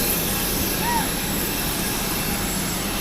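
Engines of a Batik Air passenger airplane hum in a steady, loud whine and rumble inside the cabin, with a brief rising tone near the start and no clear talk.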